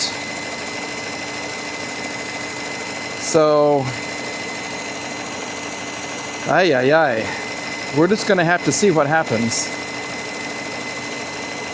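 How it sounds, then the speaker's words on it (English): A Mercedes S500 Coupe engine running rough holds a steady, uneven mechanical drone throughout, with someone talking briefly over it at a few points. "It sounds like a not so happy engine"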